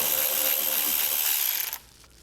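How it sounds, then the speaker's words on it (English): A 7mm socket on a ratchet clicks rapidly and steadily, loud and close, while removing small bolts from the top of a car's rear fascia, then stops abruptly. "Take a 7mm socket and remove the smaller bolts at the top of the fascia"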